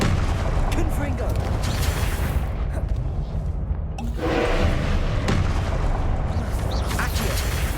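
A Confringo fire spell explodes in Hogwarts Legacy, the blasts landing as dense, loud booms within a continuous stream of battle noise and speech, with no clean pause between impacts.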